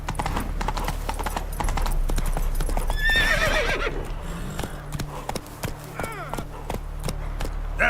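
In the video game Witcher 3, the horse Roach gallops with a steady clip-clop of hooves, letting out a loud neigh partway through and another fainter whinny later, with a voice talking over the action.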